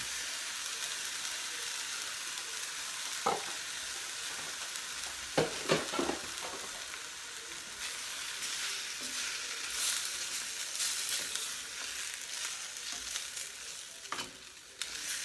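Diced tomatoes and drained canned mushrooms sizzle in a frying pan, a steady close hiss of frying with a few sharp clicks and scrapes as they are tossed together.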